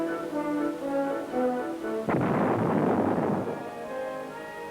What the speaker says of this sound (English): artillery projectiles are fired directly at the weld on each plate